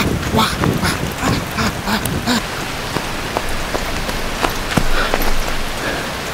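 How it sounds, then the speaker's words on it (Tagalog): Heavy rain pours steadily onto surfaces in the Philippines, a dense loud hiss with scattered heavy drops and splashes close by. "Ang lakas ng ulan!"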